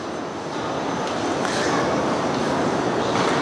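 Steady ambient hum of Minsk railway station, a broad continuous wash of rail and crowd noise with faint rumble, moderately loud throughout with no clear single events.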